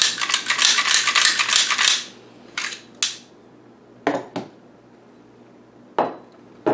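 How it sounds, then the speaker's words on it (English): Pistol slide run back and forth on its frame during lubrication, giving a dense burst of metallic clicking and sliding for about two seconds, then a few separate sharp clacks spaced apart, close and fairly loud. "Then I install my slide onto the frame and run it back and forth a few times to evenly distribute the oil"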